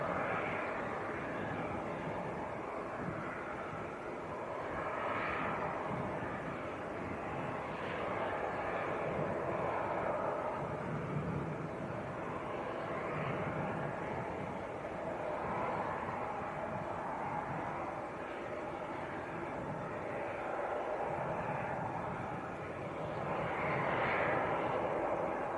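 A passenger airliner on the Dublin flight approaches Leeds Bradford Airport, heard as a broad, steady roar from a distance that swells and fades a little over the whole stretch, with no talk over it.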